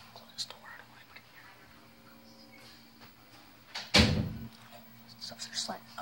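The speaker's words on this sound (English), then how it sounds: "Close the door." A door is shut with one loud, short thump midway, standing out above a quiet room where a person talks softly and whispers.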